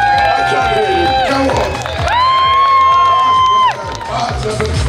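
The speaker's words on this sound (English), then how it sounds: "Let's get a little round of applause for Tom Stoltman" A crowd at the Arnold Classic cheers and whoops for strongman Tom Stoltman, with loud, rising shouts and sustained voices close by and only faint applause beneath.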